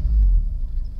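A 1988 Lotus Esprit engine gives a close, steady low rumble with no clear rise in pitch, heard alone for about a second.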